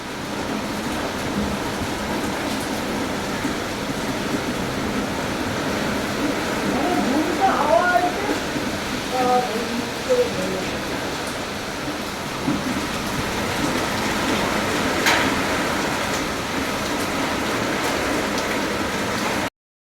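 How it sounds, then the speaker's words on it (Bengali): Heavy rain from a nor'wester storm pours steadily onto a home yard, a continuous dense wash of drops with gusty swells and a few brief clatters, close and loud throughout. "তোমাদের কার কোথায় এত ঝড় বৃষ্টি হচ্ছে দেখি"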